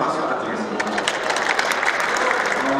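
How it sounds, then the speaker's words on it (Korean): Audience applause at a Korean alumni association presidential inauguration ceremony, sustained clapping from the hall with a few sharper claps standing out and faint voices mixed underneath. "우리 이 회장님께 다시 한 번 큰 박수 부탁드리겠습니다"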